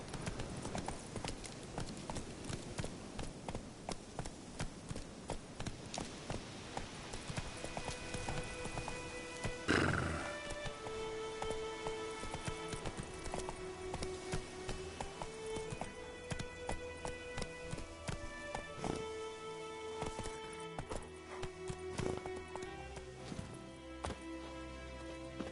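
Hooves of Roach, a horse in a video game, clip-clop steadily at a gallop with occasional whinnies, loud and close, alongside game music and ambient sound throughout.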